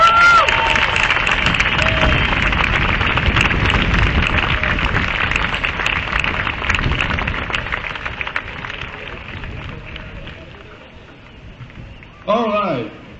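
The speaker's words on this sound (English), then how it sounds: "Let's give a big round of applause for Mr. Rollie Fingers." Crowd applause and cheering at the opening of a youth baseball complex in Myrtle Beach, a loud, dense burst that gradually fades over several seconds before a brief voice is heard at the end.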